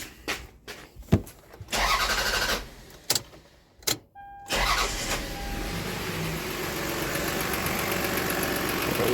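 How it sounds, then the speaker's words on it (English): A Toyota truck with a misfire cranks in a few short bursts, then catches and settles into a steady idle close by, with no one talking. "Okay, let's start the truck up."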